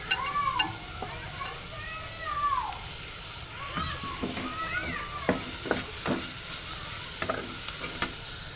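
Samosa filling of spices, fresh coriander and green chillies fries in a pan, making a continuous soft sizzle with several sharp scraping stirs, while wavering calls drift over it.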